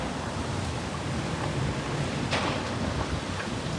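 A heavy thunderstorm pours over downtown Kansas City, with a steady roar of rain and wind and a few sharp crackles and bursts standing out, no voices present.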